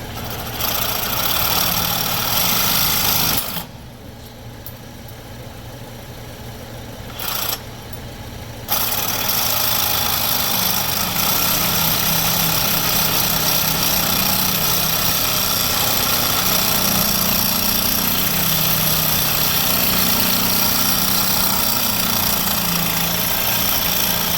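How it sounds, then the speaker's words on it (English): A Sawzall reciprocating saw cuts through a long bolt in a loud, rapid, rattling buzz. The cut stops briefly twice, then the saw grinds on steadily and close to the end. "let me grab my Sawzall and then let's just cut that down"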